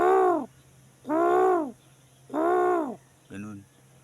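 Young birds give three long, even, hooting calls spaced about a second apart, then one shorter, rougher call. Each is clear and moderately near against quiet surroundings.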